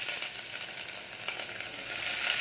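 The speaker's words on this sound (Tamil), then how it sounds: "பொரிஞ்சதும் வெங்காயத்தை போட்டுக்கலாம்." Onions frying in hot coconut oil for a cabbage and chana dal kootu, a steady close crackling sizzle throughout with no talking.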